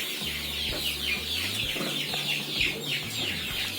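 Chickens clucking continuously in a coop, near and fairly loud, with rhythmic low clucks and busy higher calls overlapping throughout, and no talking.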